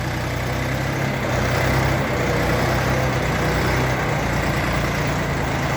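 Dongfeng 244 tractor with a three-cylinder KM385 diesel engine running steadily up close, a loud, even low chugging rumble with no talk over it.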